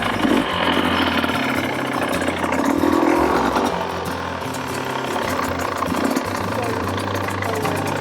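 An adventure motorcycle's engine idles and pulls away repeatedly in a stop-and-go riding drill at an off-road training ground, a steady mid-pitched rumble that swells and settles over several seconds.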